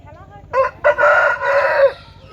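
A fighter rooster crows once nearby, a loud, drawn-out cock-a-doodle-doo over a steady low background hum.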